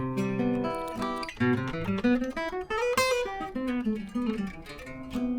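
A guitar strums a major seventh chord and lets it ring, then plays single notes in a slow arpeggio, sustained and clear with no voices.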